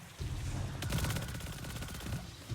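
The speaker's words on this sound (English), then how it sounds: "So let's just shoot Carl." An exotic weapon in a video game firing continuously, a dense rapid rattle of shots over a steady loud background for a couple of seconds.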